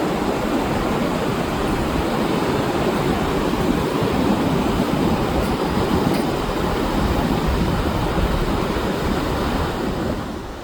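Sea waves roll onto Tajpur beach as the tide comes in, with many people bathing. The surf makes a loud, continuous wash that holds steady the whole time, with no talk.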